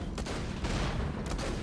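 Explosion in the video game Borderlands The Pre-Sequel, loud and dense, with several burst-like booms and sustained blast noise filling the short moment.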